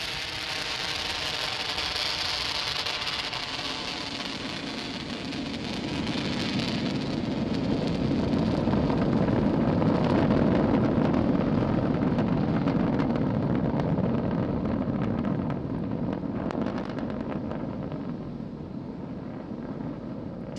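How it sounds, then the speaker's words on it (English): Falcon 9 rocket liftoff from Launch Complex 39A, nine Merlin 1D engines producing a broad, crackling roar that swells into a deep rumble, then slowly eases, distant but powerful and continuous. "successful liftoff of the Falcon 9 from Launch Complex 39A"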